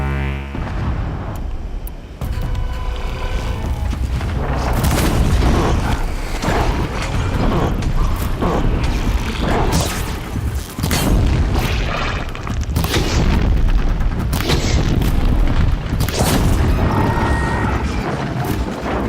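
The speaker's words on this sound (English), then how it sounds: "Hey, look, everything exploded." Heavy booms and blasts erupt repeatedly during a fight with machines in Horizon Zero Dawn, loud explosions with mechanical clanks and crashes between them, dense and close with no talking.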